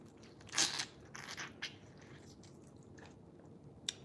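Wet crunching and slurping while eating juicy pummelo fruit, a few close bursts of chewing and sucking with quiet pauses between, no talking.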